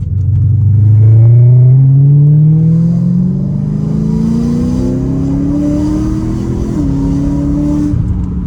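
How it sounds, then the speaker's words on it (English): A Chevrolet Lumina engine revs up steadily with a rising, throaty whine, shifts briefly near the end, then holds a loud, close drone. "This motor sounds so nice."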